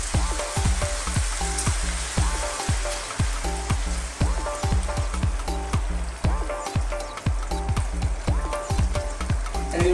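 Coconut milk for Bicol Express, a Filipino pork and chili dish, bubbling and sizzling steadily in a pan, with crackling pops and occasional stirring knocks throughout, close and moderately loud.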